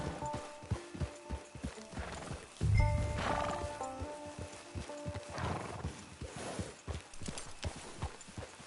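A horse in Red Dead Redemption 2 whinnies loudly up close while its hooves clip-clop steadily, with a heavy snort or thump partway through and scattered mechanical clatter in the background.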